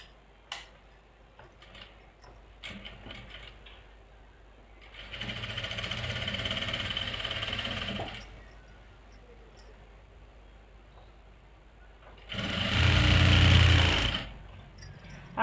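Sewing machine stitching lace onto the joints of kali palazzo panels, in two bursts of rapid whirring: one lasts about three seconds and a shorter one follows, with quiet handling noises between them.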